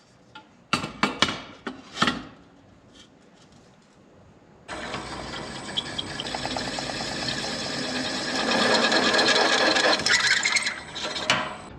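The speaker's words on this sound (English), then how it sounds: "We're going to drill straight through this one now." A drill boring straight through a 1.5 by 1.5 block of wood, opening with a few short rasping bursts, then settling into a continuous grinding whine that strains louder toward the end.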